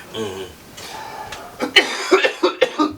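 Several sharp coughs in a quick, uneven series close to the microphone during a podcast recording, following a stretch of quieter background murmur.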